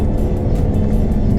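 A Ford Mustang EcoBoost in sport mode pulls hard, with a loud, steady engine drone and road roar heard from inside the car, sustained through the whole moment.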